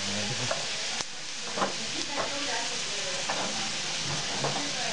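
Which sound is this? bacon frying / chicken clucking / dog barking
bacon frying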